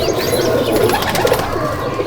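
Andhra and Madrasi pigeons in a loft in Hooghly, many birds cooing together in a steady, dense close chorus with fluttering and rustling, no talk.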